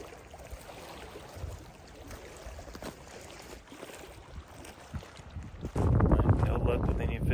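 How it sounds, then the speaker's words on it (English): Strong wind buffets the microphone on a lake during a fishing trip, a steady rushing roar that surges louder toward the end, with a voice talking underneath. "The wind's pretty brutal too."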